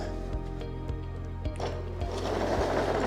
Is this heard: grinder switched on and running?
yes